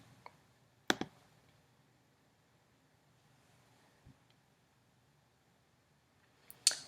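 Mouse clicks on a computer during tax-filing software use: one sharp click near the start, a faint tap midway and another click at the end, separated by near silence.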